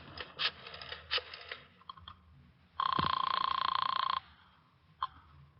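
Telephone use in an old-time radio drama: a burst of scattered clicks and clatter as a receiver is handled, then a steady, loud ringing tone about a second and a half long, followed by a faint click.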